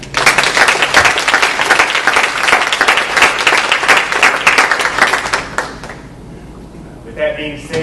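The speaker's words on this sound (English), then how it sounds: "I think we owe Carl a round of applause for his work this year as our president" Applause from the audience at a university alumni association annual meeting, loud continuous clapping that tapers off near the end, followed by a brief voice.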